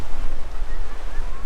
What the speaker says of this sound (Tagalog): Tingnan mo, ang lakas ng hangin.